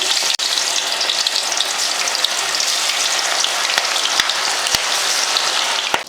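Marinated chilli pieces fry in hot oil with a steady, dense crackling sizzle that holds loud and even throughout, broken by a few sharp pops near the end.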